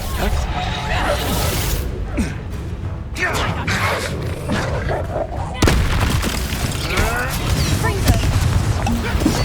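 Spell blasts and booming impacts from Reducto and other combat spells in the Hogwarts Legacy video game, a dense run of loud bursts with a sharp hit near the middle, layered under constant excited talking.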